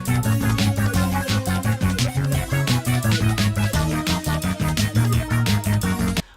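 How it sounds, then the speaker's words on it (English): Upbeat electronic Super Mario Galaxy music with a pulsing bass line and steady beat, its tone sweeping open and closed in a repeated wah-effect filter motion. "What you're hearing is called a wah effect."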